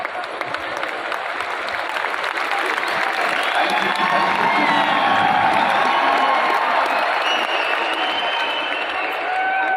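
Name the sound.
audience applause at product training event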